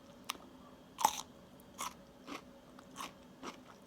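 Someone bites into and chews a crunchy dill pickle fermented without vinegar: a sharp crunch followed by about five more crisp chewing crunches, close up and otherwise quiet.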